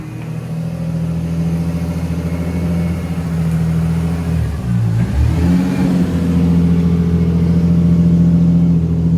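A Lexus SC300 engine revs steadily through its exhaust, a deep throaty rumble that dips briefly midway and then climbs back to a loud, sustained drone.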